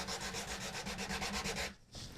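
A flat, well-jointed wooden block sanded along a guitar fretboard from the 14th fret to the end, giving close, rhythmic back-and-forth rasping strokes that stop abruptly near the end.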